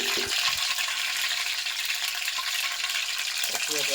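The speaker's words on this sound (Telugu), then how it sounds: "అయితే వేసుకున్నాం తాలింపులో శుభ్రంగా ఆకుకూరలు" Leafy greens frying in a tempering with onions and curry leaves, a steady loud sizzle and hiss filling the whole stretch, with a few brief utensil clinks and a voice at the edges.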